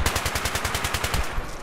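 Rapid automatic fire from an L85A2 rifle in the video game Battlefield 3: a fast, even burst of about a dozen sharp shots, fairly loud and close, ending abruptly.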